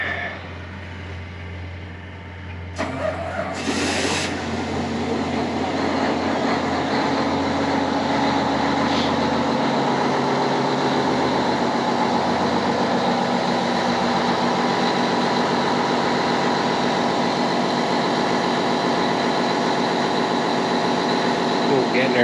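A John Deere 9620R tractor backs off a trailer in low reverse. Its big engine gives a steady, loud, close rumble with a brief hiss near the start, and a voice can be heard under it.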